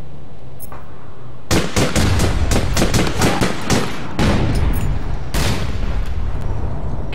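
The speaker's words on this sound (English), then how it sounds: "Okay, taking fire, I'm falling back." Rapid bursts of gunfire from the online shooter game APB Reloaded, loud close volleys and sharp shots crackling in quick succession, with a brief pause before more firing resumes.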